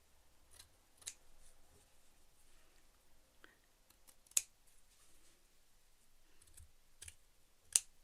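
Scissors snip excess velvet fabric in several sharp, isolated cuts spaced irregularly, close and crisp against a near-silent background with faint handling rustles.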